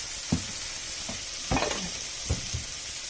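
Olive oil sizzles steadily in a soup pot as the base for gnocchi soup, a soft continuous hiss broken by a few brief clatters of stirring, with no voice.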